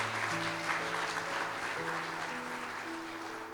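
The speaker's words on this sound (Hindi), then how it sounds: "जोरदार तालियां खुदावंद के लिए" Sustained applause from a church congregation praising God, a steady, even wash of clapping with a held musical tone running beneath it throughout.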